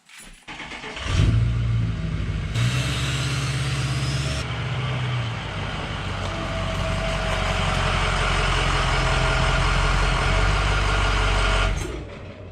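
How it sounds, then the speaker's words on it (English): A 1999–2007 Ford F250 Super Duty pickup pulls into a driveway, its engine loud and close with a steady low rumble that rises briefly as it moves, then cuts off at the end. "So let's get this truck up into the driveway"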